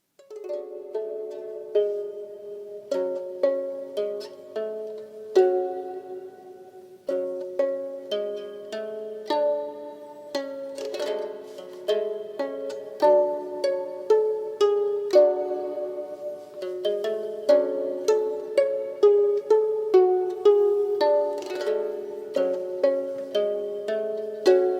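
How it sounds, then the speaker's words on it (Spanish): Plucked harp in the style of a 3,800-year-old instrument from the ancient kingdom of Kemet, playing a steady melody of bright, ringing notes with frequent fresh plucks, clear and close, with no voices. "Vamos a escuchar un poquito de arpa antigua del reino de Kemet."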